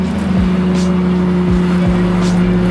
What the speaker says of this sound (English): So there's always traffic out here.